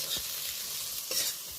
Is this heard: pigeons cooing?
no